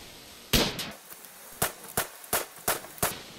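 Several sharp gunshots in Rimworld aimed at a boomalope: one loud crack, then a quick double, and a steady run of single shots spaced about a third of a second apart, close and clear with no talk.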